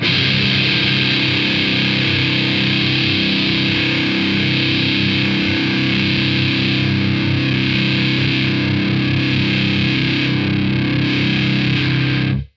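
Heavily distorted electric guitar through an MXR Custom Badass 78 Distortion pedal, holding a thick, buzzing sustained chord with a boosted top end, loud and dense throughout, cutting off abruptly at the end.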